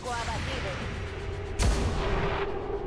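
A gunshot fires in the video game XCOM 2: War of the Chosen, one sharp loud blast cutting in about midway over steady game ambience, with a voice talking beforehand.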